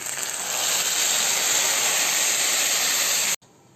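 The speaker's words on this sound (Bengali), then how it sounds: "এখন আমি পরিমাণ মতো জল অ্যাড করে দেবো" Water poured into rice and lentils frying in a hot pot for khichuri, a loud close steam hiss that swells, holds steady, then cuts off abruptly, with no voices.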